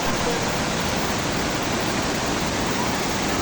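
Sprite Falls in Majayjay, Laguna pours as a steady, dense roar of falling water, loud and close, with no talking.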